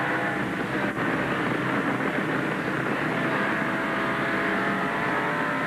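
Stock cars race at the 1988 Busch 500, a dense, constant engine roar from the pack held at steady loudness for several seconds, with no talking.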